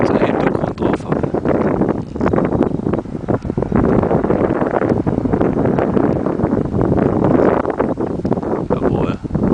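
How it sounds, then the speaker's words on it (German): Steady rushing wind whistles and buffets around a Discus 2cT glider in flight over a hillside, loud and continuous throughout, with constant fluttering turbulence on the microphone. "Hast sogar den Wind pfeifen hören."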